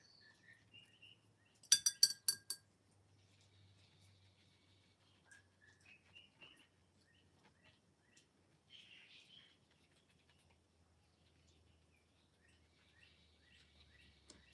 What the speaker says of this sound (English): the birds and how nice they sound today